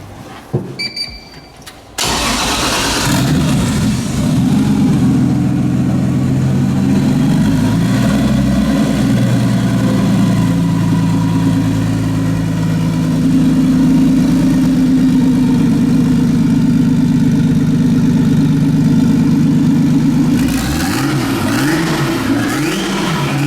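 A 2JZ-swapped Lada fires up with a sharp cranking burst, then settles into a loud, deep, lumpy idle that rises briefly in pitch near the middle and blips again at the end, close to the car.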